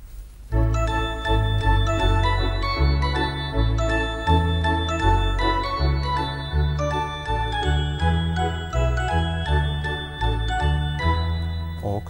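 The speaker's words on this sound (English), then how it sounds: "So let's try organ and bells." Lowrey Stardust SU530 home organ on its organ-and-bells setting plays a bright melody of chiming bell tones over sustained organ chords, clear and close with no voices.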